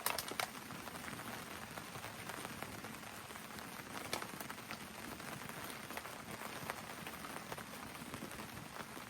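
Rain patters steadily on the top of a hammock canopy while camping in severe weather, a dense continuous drumming of close drops that stays even from start to finish with no voices.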